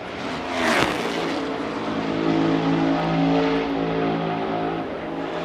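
A NASCAR Cup Series race car engine as the driver works the throttle during qualifying, a loud sustained roar that swells and eases, with a sharp burst early on.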